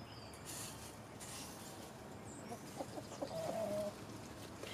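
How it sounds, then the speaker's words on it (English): Chickens inside their chicken house give faint, scattered clucks and short calls over a steady low background, with a slightly louder burst of vocalizing toward the end. "the chickens love to see when I clean up their house."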